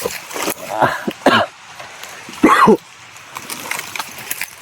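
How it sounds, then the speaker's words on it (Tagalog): A few rough coughs close by, with a throat-clearing burst and quieter breathy sounds in between. "Yung medyo may ubo ako."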